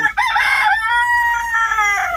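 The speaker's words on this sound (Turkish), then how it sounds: "Yine arkadan gelen horozlar var" A rooster crows once, loud and close, a long drawn-out call with a rising start and a sustained, wavering tail.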